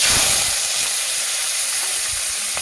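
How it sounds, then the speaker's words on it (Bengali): Onions hitting hot oil with dried chilli and black cumin, a loud close hiss and sizzle that settles into steady frying, with no voices. "এরপর আমি পেঁয়াজগুলো দিয়ে দেবো।"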